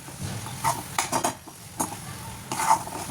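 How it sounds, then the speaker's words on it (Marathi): Vegetables stirred and sautéed in masala in a pan, uneven close scraping and clattering strokes over a soft sizzle, without any speech. "यात छानशी अशी ही भाजी परतून घ्यायची आहे सगळी"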